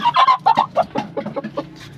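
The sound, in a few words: chickens clucking in a coop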